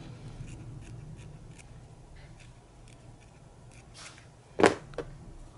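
Scissors cut through a piece of sheer white lace, with soft quiet rustling followed by one sharp, close snip near the end.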